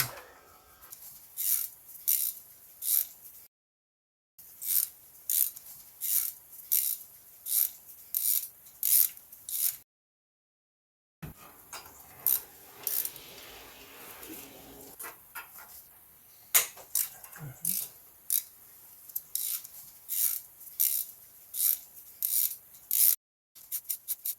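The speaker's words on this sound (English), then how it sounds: "let's see if I can insert my long Torx bit. This is 3/8 ratchet." A 3/8 ratchet clicks in quick repeated bursts as it turns a long Torx bit on a BMW F10 N57, with short pauses between strokes, close and fairly quiet.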